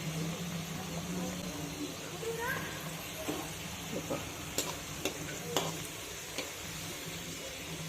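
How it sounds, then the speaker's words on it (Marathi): Karanji pastries deep-fry in hot oil over low heat with a soft, continuous bubbling sizzle, joined by a few light ticks and taps of a utensil against the pan. "आपल्या करंज्या छान अशा तळून होतात आहेत पहा"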